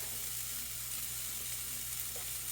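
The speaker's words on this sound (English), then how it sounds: "We'll cook it in with the bacon" Bacon frying in a pan with cayenne pepper added, a steady close sizzle and crackle holding evenly throughout, with a low hum in the background.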